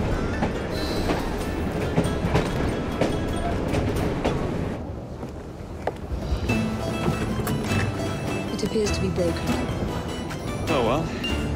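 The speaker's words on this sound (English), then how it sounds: "at least we have a train now" Train rumbling past with rolling rail clatter and a faint wheel squeal near the end, inside the video game Assassin's Creed Syndicate, set against dense city ambience and a voice talking throughout.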